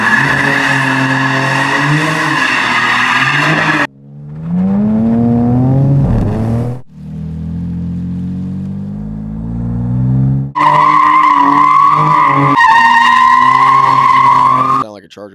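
A brand new straight-six Dodge Charger drives hard, its tires squealing and skidding in long, loud screeches between stretches of engine roar, with the pitch rising and falling as it slides.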